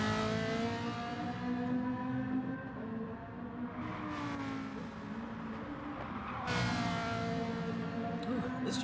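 Race car engine in a racing video game, the Italian Mini-Challenge, droning steadily with pitch rising and falling through gear changes and cornering on a tricky track, loud and continuous with no talk.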